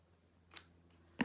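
Scissors snip through paper scraps to cut them in half, two quiet, brief crisp cuts about half a second apart in an otherwise still room.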